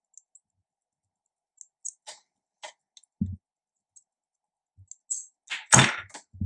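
Scissors trimming a pleated adjustable fabric mask, sparse sharp snips and small clicks separated by silence, close and quiet.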